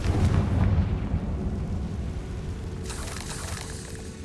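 A Confringo blasting curse goes off in Hogwarts Legacy with a heavy booming blast. The low rumble swells strongly at the start, then dies away into a sustained rolling roar, and a brighter crackling burst comes in near the end.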